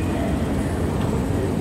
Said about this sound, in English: Nasa subway tayo ngayon.